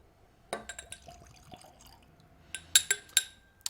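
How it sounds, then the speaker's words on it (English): Plum brandy is poured from small sample bottles into glasses, with a few sharp glass clinks and short liquid trickles near the mic; no one speaks. "going to get these guys poured from my little sample bottles here."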